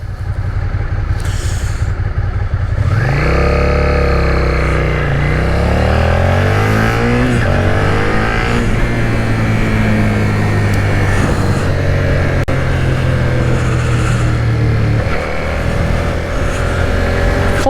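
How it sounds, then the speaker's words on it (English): A Suzuki SVF650 Gladius V-twin motorcycle accelerates hard in second gear, its loud engine note climbing steadily in pitch, easing and climbing again, with heavy wind rush and no talking. "Plenty of power in this bike. Second gear roll on."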